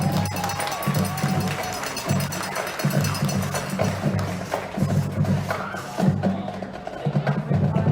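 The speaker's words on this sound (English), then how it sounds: "How about another round of applause for the Rural Spartan Marching Band?" A crowd at a county high school band festival applauds and cheers the marching band, a dense steady wash of clapping with a low rhythmic thumping beneath and voices mixed in.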